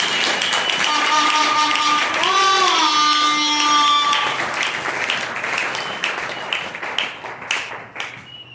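A church congregation applauds and cheers to acclaim the Lord, a dense wash of clapping under a sustained sung or shouted vocal tone, thinning into scattered claps and fading toward the end.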